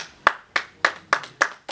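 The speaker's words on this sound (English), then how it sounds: "Clapping's a distraction." Audience at a church sermon clapping in unison, five or six sharp, evenly spaced claps, loud and close with nothing else over them.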